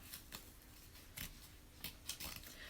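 Scissors cutting paper for an Easter bunny craft: faint, close snips in an irregular rhythm, each a short crisp slice, quiet with no talk.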